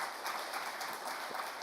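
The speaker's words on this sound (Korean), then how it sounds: "우리 박 목사님께 우리 환대의 박수 한번 드리겠습니다" A church congregation applauds its pastor with a steady wash of clapping, somewhat distant and even throughout, without talk.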